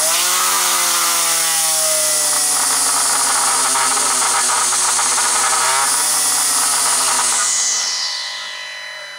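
Loud, steady whine of a homemade feller buncher with a Diablo saw blade cutting through maple wood, engine pitch dipping under load before the blade spins down near the end, close and continuous with no talking.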